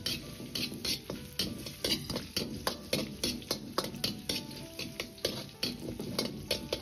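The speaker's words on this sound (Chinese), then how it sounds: "接着下入姜蒜片炒出香味" Ginger and garlic slices stir-frying in oil with chili and Sichuan peppercorns: steady sizzling under rhythmic scraping strokes of a spatula against the wok, repeating roughly every half second, close and clear.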